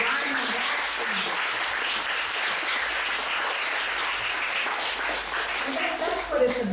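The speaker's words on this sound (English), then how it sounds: "one more round of applause for Brian and Braxton" Steady audience applause for two poets at a Juneteenth celebration, a continuous moderately loud patter of many hands clapping, with crowd voices mixed in.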